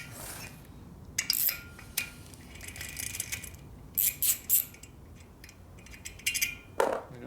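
A ratchet wrench with an extension spins nuts off while rebuilding a 1965 Harley-Davidson Panhead 74ci FLH motor, giving bursts of rapid metallic clicking and clinking separated by short pauses, close and fairly loud.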